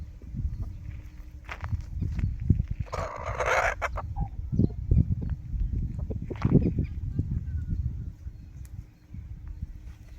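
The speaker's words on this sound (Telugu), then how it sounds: "పోటీ పడుతున్నాయి రెండు ఆ పెట్ట కోసం" Two roosters and a hen in a farmyard, with clucking and bursts of crowing or squawking from the birds contesting the hen, close by and fairly loud over a steady low background rumble, with footsteps or scuffling and no talk.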